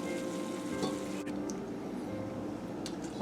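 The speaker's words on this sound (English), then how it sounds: "I'm about 10 minutes into cooking the roux. I've been cooking it on medium heat for about 10 minutes now." Flour roux for étouffée cooking on medium heat: a soft, steady sizzle with faint crackles and a brief tap partway through, quiet and continuous.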